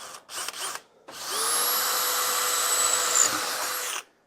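A cobalt drill bit bores through thin 1/8 inch steel: a brief whir, a pause, then one sustained high-pitched drilling whine lasting a few seconds that cuts off abruptly.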